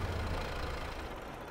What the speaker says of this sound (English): Stop the tractor.